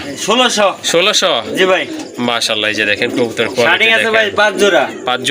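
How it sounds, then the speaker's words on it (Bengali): Pigeons offered for sale by a seller coo softly, largely buried beneath continuous loud talking close to the microphone. "খুবই চমৎকার কোয়ালিটি সম্পন্ন কবুতর এটা"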